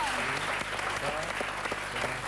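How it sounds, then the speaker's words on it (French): An audience at an André Rieu event claps in a dense, steady burst of applause, lasting a couple of seconds at moderate distance. "Je vous demande d'applaudir Maître Tajan."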